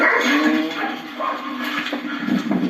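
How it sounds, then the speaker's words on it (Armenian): A choking dog whimpers and whines in strained, high pitched cries, close by and continuous, with some background noise. "Բաց ով եք շունը խեղդվում է։"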